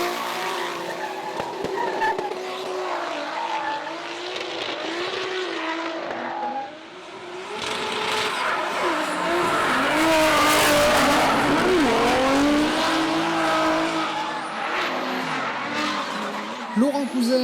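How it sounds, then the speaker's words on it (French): Drift cars skid through the Chamrousse touge course at a French drift championship round, engines howling and tires squealing continuously, loud and close, with a surge of revving and screeching in the middle. "Laurent Cousin à l'assaut de Romain Soukas, son coéquipier, sauf que Romain Soukas fait qu'une erreur, il manque de sortir de la piste"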